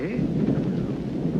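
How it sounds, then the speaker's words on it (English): Thunder rumbles through a storm, a loud continuous low roll that fills the whole moment with no voices over it. "There was a storm coming up."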